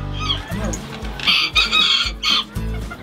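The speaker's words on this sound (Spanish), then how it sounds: "Esta es una gallinita golden." Golden hen and rooster at a poultry farm, clucking and a drawn-out crow rising in loud bursts over low rumbling background noise, near and repeated across the moment.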